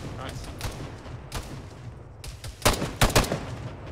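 Gunfire in the Arma 3 military video game, a handful of distant sharp shots scattered irregularly, then a tighter cluster of louder bursts near the end, with soft ambient rumble and some faint talk mixed in.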